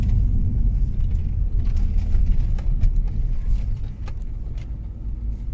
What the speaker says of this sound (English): maybe I can give the car a few revs and hopefully you guys can hear what it sounds like from inside.